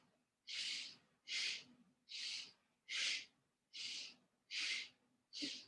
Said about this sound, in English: Exhale, inhale, exhale, inhale.